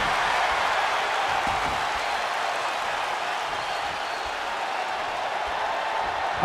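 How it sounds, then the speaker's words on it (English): Dense, steady crowd roar and cheering from a wrestling arena in the WWE 2K24 video game during a special guest referee match, a loud continuous wash of noise with no talk heard. "What a raucous crowd here tonight."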